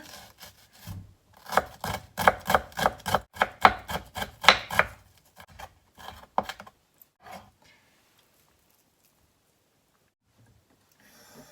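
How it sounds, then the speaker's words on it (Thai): A knife slices through shallots on a cutting board for a tomato salad, a quick run of crisp, evenly spaced chops close up that slows to a few scattered cuts and then falls silent. "หอมแดง หอมแดงซอยด้วยจ้ะเด้อ"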